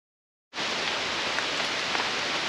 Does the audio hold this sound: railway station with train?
no